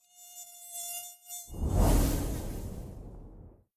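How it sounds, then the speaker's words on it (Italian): A mosquito whines in a thin, steady buzz inside a cabinet, close and alone for about a second and a half, then a louder rushing noise swells over it and fades. "Mentre la zanzara qui nei nostri armadi continua a circolare"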